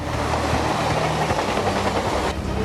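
Heavy train running on railway tracks in Begusarai, Bihar, a loud continuous rumble and rattle with faint rhythmic clatter and a hiss near the end.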